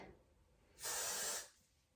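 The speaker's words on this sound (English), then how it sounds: "I'm gonna grab the Got To Be Glued Blasting Freeze Spray. And I'm just gonna spray some of that." A single burst of Got To Be Glued Blasting Freeze hair spray hisses loudly for about half a second, then stops, leaving quiet room tone.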